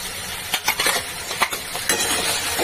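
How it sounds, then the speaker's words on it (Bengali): Tomato paste being stirred in a pan with a utensil, with scraping and light sizzling in a few distinct strokes close by, no talk. "তা দিয়ে একটু নাড়তে হবে অনবরত"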